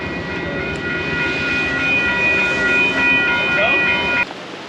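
A train rumbles steadily at the Lordsburg train station, with a thin, high metallic whine over it, then cuts off abruptly just before the end.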